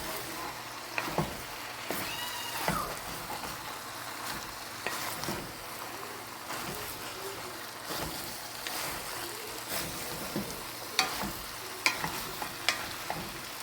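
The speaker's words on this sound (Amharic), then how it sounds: "ያው እንደምታዩት ቆንጆ ሆኖ እየተቆላላልኝ ነው።" Cabbage fries in an iron pot while being stirred, a steady low sizzle with scraping and clinking strokes of the spoon against the metal, fairly quiet and continuous.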